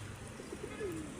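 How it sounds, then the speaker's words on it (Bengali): Pigeons gathered in front of a mosque, among hills, give a soft, faint cooing call that swells briefly near the end over low background ambience, with no talking. "আর এই যে কবুতরগুলা দেখেন, কবুতরগুলা কত সুন্দর"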